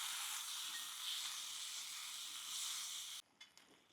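Masala, Maggi seasoning, Schezwan chutney and tomato ketchup mixture sautéing in a pan, a steady close hissing sizzle that cuts off near the end, leaving a few faint stirring clinks.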